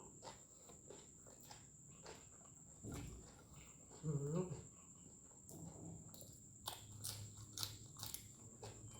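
Crunchy fresh water spinach being bitten and chewed up close, with bursts of crisp crunching around the middle and sporadic crunches later over a steady insect hum.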